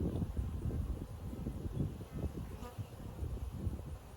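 Honey bees buzz around an open hive, a dense low droning hum that stays steady and close, with faint wind noise mixed in.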